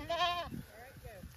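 One of three goats gives a loud, wavering bleat up close, followed by softer bleats and brief talk from a person nearby.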